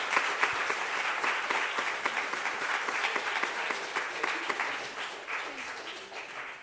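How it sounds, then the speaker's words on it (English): A church congregation at a Sunday service bursts into sustained, dense applause that stays loud for several seconds before gradually tapering off. "You can clap now."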